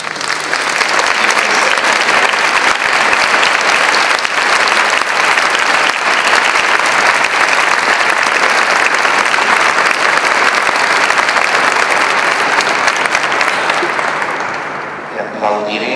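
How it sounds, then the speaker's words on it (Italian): An audience in a concert hall applauds the composer after an ensemble performance, with dense, loud, continuous clapping that holds steady throughout and tapers off only at the very end. "applauso"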